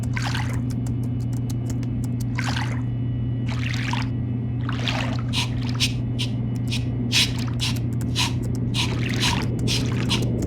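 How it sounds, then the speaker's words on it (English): A silver tobacco tin is gently washed with a soft brush in the Titanic VR game, giving repeated short wet scrubbing strokes over a steady low hum. "I'll have to gently wash this using a soft brush, making sure I don't scratch the surface underneath."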